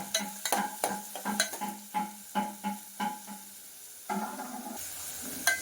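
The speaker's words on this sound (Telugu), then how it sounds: "మనకు ఆనియన్స్ అయితే మగ్గుతున్నాయి" Onions and green chillies cooking in a pan, marked by a quick series of scraping, clattering stirring strokes in an uneven rhythm, ending in a softer, steadier sizzle at close range.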